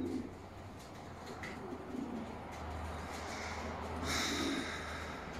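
Domestic pigeon cooing in a loft, soft low throaty coos repeating under faint background noise, with a brief brighter sound near the end.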